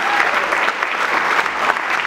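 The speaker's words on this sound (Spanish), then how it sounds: "Un aplauso para Rito Bernal." Loud, dense clapping from a stand-up comedy audience greets a comedian, sustained evenly for the whole short stretch with no talking over it.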